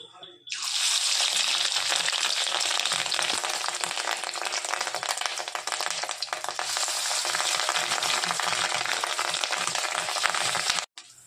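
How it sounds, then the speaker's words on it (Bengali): Fish roe fritters fry in hot oil, a dense, loud, steady sizzle that starts abruptly and holds for about ten seconds before cutting off, with faint background noise beneath. "এখন গরম তেলের মধ্যে দিয়ে বড়াটা করব।"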